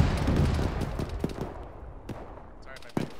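Gunfire in the tactical shooter Arma with a ShackTac group: an opening burst of shots, then sharp isolated cracks later on, fairly loud against quieter background noise.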